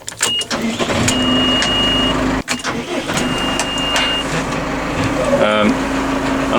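A tractor engine cranks and catches, then settles into a steady mid-pitched idle, with a brief clunk partway through.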